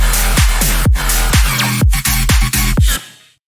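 Loud electronic drop with heavy pounding bass kicks, sweeping noisy synths and rhythmic pulses, cutting off abruptly near the end.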